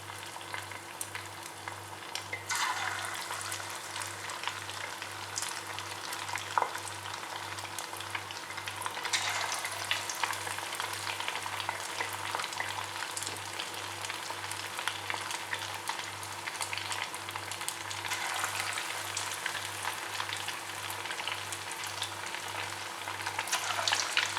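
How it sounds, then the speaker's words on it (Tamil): Egg 65 balls deep frying in hot oil, a dense continuous sizzle and bubbling that stays steady throughout with no voices. "இப்போது இதை வந்து ஃப்ரை பண்ண போகிறோம். எண்ணெய் சூடாயிடுச்சு."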